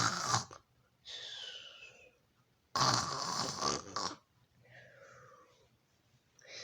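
A voice imitates snoring, acting out a sleeping hare named Harold in a storybook reading: two loud, drawn-out rasping inhales, each followed by a softer whistling exhale, close and alone.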